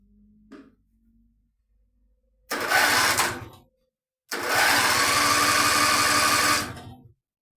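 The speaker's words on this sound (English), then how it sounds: "Wow, that's a pretty impressive starter motor." Starter motor on an old Contax tractor cranking the engine under compression. A short whirring burst is followed by a pause, then a longer, loud, steady churning crank that stops abruptly.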